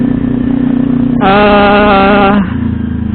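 Kawasaki New Ninja 250 parallel-twin engine running just after an oil change, idling close up, then briefly blipped to a steady higher rev for about a second before dropping back to idle.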